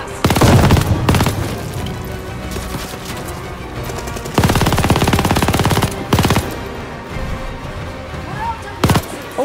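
Automatic gunfire in the Call of Duty: Vanguard game, with loud rapid bursts of shots at the start, a long burst mid-clip and short bursts later, with speech and background game sounds in between.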